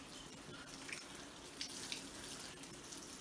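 Tap water running steadily into a sink while a cleaned quail is rinsed, a quiet continuous splashing hiss with faint drips and small movements, no voices.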